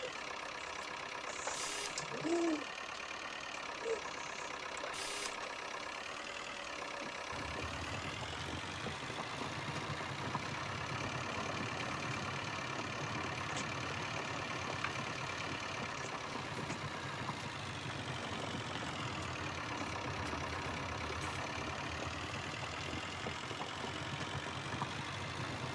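A new tractor ploughing grass on a farm, its engine running steadily throughout with a continuous low drone that thickens after the first few seconds, with no voices.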